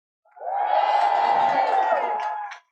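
A large crowd at a Stop Trump Coalition protest march in London lets out one sustained burst of cheering and whooping, loud and close, swelling quickly and holding for about two seconds before cutting off.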